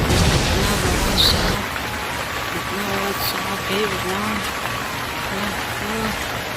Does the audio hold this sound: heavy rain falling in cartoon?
yes